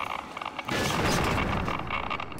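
A pipe bomb goes off in Left 4 Dead 2, a sudden loud blast that swells after a brief quieter moment and rumbles on for a couple of seconds.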